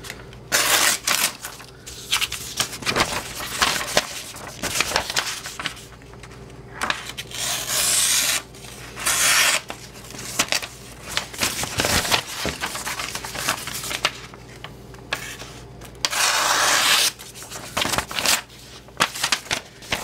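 Repeated dry scraping and slicing strokes of a knife blade through printer paper, with bursts of crisp rustling and tearing, fairly close and in irregular rhythm.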